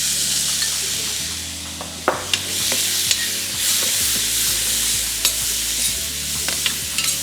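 Onion and garlic fry in a pan for a fish rougaille, giving a steady close sizzle while being stirred, with a few sharp utensil knocks against the pan.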